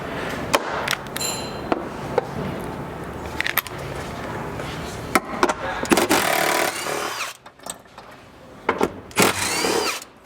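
Power tool running in short bursts on the 14mm track bolts of a Toyota 4Runner during a gear plate install, with intermittent loud whirring, scraping and clatter of metal, closely recorded with several pauses between bursts.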